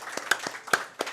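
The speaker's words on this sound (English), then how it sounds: "Y'all give it up a round of applause for yourselves." Scattered claps ring out at a coach's show, a few sharp, separate hand claps from a small crowd, spaced unevenly over about a second.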